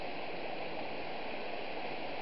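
River water rushing steadily beneath a bridge, a dense, even wash of flowing water that stays constant and close throughout, with no voices.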